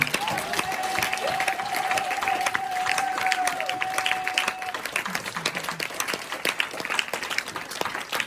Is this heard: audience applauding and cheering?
yes